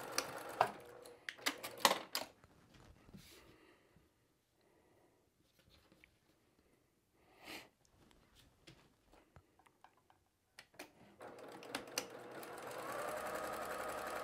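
A sewing machine stitches half square triangles of batik quilting fabric in two quick runs near the start and a steadier run at the end, with quiet handling sounds between.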